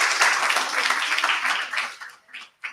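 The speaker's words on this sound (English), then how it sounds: "Big round of applause." Audience applause at a conference event honoring its sponsors, a dense wash of clapping that fades and thins toward the end with a few scattered claps.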